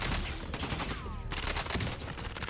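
Rapid automatic fire from a CX-9 SMG in Warzone, a fast unbroken rattle of shots lasting the whole stretch, loud and close.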